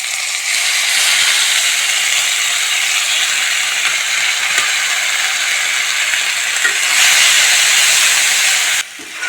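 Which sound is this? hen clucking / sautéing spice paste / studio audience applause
sautéing spice paste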